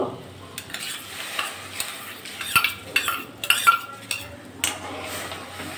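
Mung dal is stirred in water in a pot with a utensil, a series of soft scraping strokes and light metallic clinks against the pot, fairly quiet and close.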